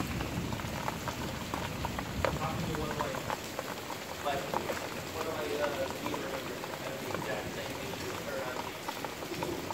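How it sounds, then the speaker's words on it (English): Heavy rain pouring down outside during a lightning and thunder storm, a dense, steady wash of hissing and spattering drops that fills the whole clip, close and loud, with no voices. "when it's lightning and thundering and downpouring outside"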